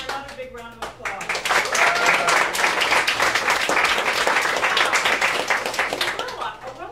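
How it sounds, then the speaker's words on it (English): Applause from a dinner-event audience, dense steady clapping that swells after the first second and holds loud to the end, with a voice speaking briefly at the start. "Give her another big round of applause"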